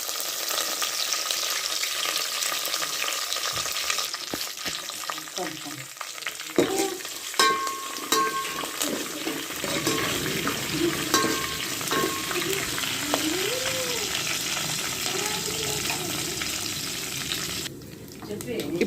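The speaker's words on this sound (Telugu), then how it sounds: "ఆయిల్ వేడెక్కిన తర్వాత ఒక 2 ఎండుమిర్చి, కొంచెం పోపు, కొంచెం కరివేపాకు వేసి ఫ్రై చేసుకోవాలి." Dried red chillies, tempering seeds and curry leaves crackle and sizzle in hot oil, a steady close frying hiss with occasional stirring scrapes.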